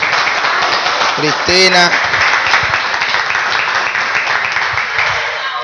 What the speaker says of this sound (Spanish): Démosle un aplauso a Cristina.